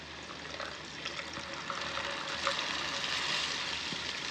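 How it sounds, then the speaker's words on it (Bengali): Water poured into fried spice masala in a pan for a fish-head curry: a steady pouring rush over a faint sizzle, building slightly and continuing for several seconds, close and moderately quiet, without talking. "মশলা থেকে তেলটা ছেড়ে দিয়েছে, এবার দিয়ে দেবো পরিমাণ মতো জল।"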